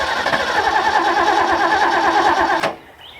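A modified engine running low on fuel idles loud and close with a steady buzzing drone. Near the end it cuts out abruptly, leaving near silence.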